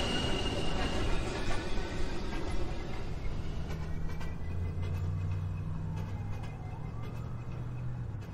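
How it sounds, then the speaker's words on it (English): An NYC subway express 2 train pulls into the 231 St station, a low rumbling roar with rising metallic squeals and a faint tonal whine, heard from the platform at moderate distance. "Express 2, train approaching the station."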